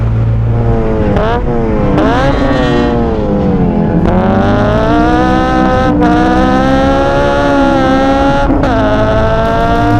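A Mazda Miata NC2 engine with a 7,500 RPM redline revs repeatedly, its pitch climbing and falling through several pulls, loud and close throughout.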